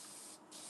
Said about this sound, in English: you're going to take your water bottle and you're going to spray the second half